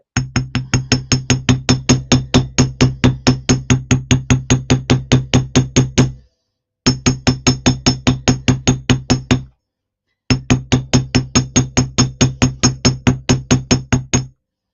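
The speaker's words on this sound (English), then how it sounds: "I'm going to give this a hammer." A hammer strikes steadily during a crafting session, rapid even blows in three long runs separated by brief pauses, loud and close with a bright ringing edge.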